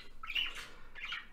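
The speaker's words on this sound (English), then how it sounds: "I do apologize for the parrots here. I hope they're not too disturbing." Parrots squawking inside an on-the-road chess commentary studio: two shrill, raspy calls, the first longer and louder, the second shorter, with nobody speaking over them.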